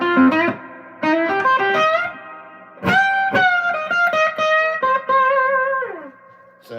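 Electric guitar through a tube amp with the analog delay pedal switched off, only reverb on, rings out in loud, distinct chords and single notes, each struck and sustained before fading, with short gaps between phrases and no voices.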